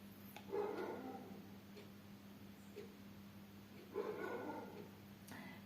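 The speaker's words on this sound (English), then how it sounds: "They bark and bark and bark." Dogs bark in a few short, faint bursts at a distance, with a low steady hum underneath and long quiet gaps between the barks.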